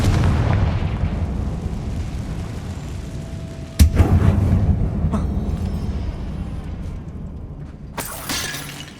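A Confringo fire spell goes off in Hogwarts Legacy inside a tomb-like dungeon, giving a sharp booming blast over a low rumble, followed later by a second crackling burst.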